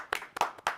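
A few hands clap three separate times in a quiet room, sharp and close with gaps between each clap, loose and uneven.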